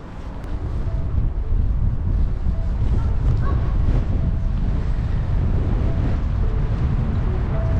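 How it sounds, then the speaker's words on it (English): Steady, loud wind gusting across a microphone on a dock in Ancoats, with a constant low buffeting roar and faint water sounds beneath, unbroken throughout. "Breezy down on the dock though."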